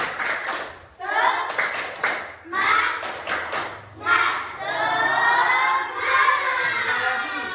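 A school class claps hands in a quick patterned rhythm, bursts of clapping separated by short pauses, with voices chanting along throughout.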